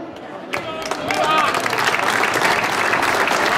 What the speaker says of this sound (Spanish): Recibe un aplauso.